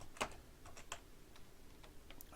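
Soft keystrokes on a computer keyboard come as a quick, irregular patter of light clicks, close but faint, with one sharper tap near the start.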